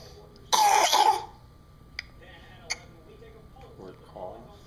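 A young child gives one harsh, breathy cough up close. A few faint ticks and soft, murmuring sounds follow in a quiet room.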